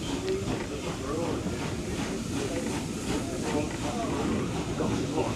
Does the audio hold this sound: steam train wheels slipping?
yes